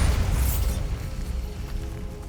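Bombarda explosion spell in Hogwarts Legacy, a deep booming blast at the start that rumbles and slowly fades into a low, dense tail.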